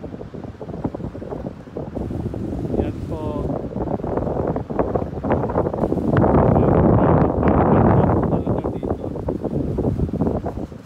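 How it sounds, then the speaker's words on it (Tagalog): Strong wind buffets the microphone in loud, rushing gusts at The Empire Hotel in Brunei, with a person speaking briefly over the roar. "sobrang lakas ng hangin dito"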